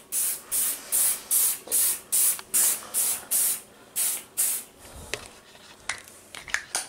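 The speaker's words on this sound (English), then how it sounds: "can you spray it so it smells good?" A string of short, sharp aerosol sprays in steady rhythm, about a dozen hissing bursts close up, followed by a few faint rustles and clicks.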